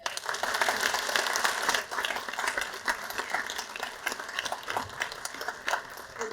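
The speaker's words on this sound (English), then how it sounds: "So please give them a hand" An audience at a community meeting applauds volunteers, a steady dense patter of many hands clapping that dips briefly then carries on, fairly distant and with no talk over it.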